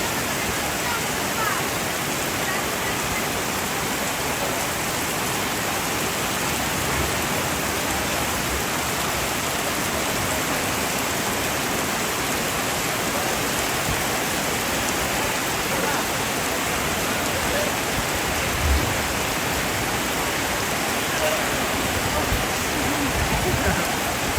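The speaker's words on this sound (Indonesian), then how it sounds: "hari ini hujan sudah turun" Rain falls steadily around a tongkonan during a funeral gathering, a dense, even hiss of drops lasting throughout with no clear pauses.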